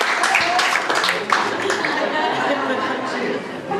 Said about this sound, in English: Give him a really big clap.